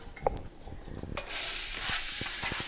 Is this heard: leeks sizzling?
yes